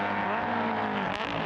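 A race car engine at the Imola circuit roars steadily, then drops through gears with a few sharp crackles and pops near the end.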